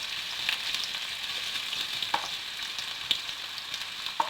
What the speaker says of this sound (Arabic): كاين قطرات ديال الماء هنايا، داكشي كتسمعوا طرطق شويه